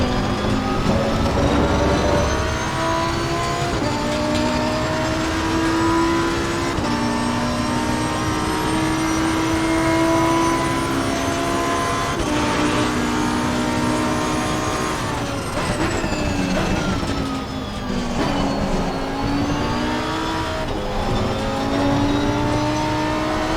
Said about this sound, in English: I do love the sound of a Lamborghini V10.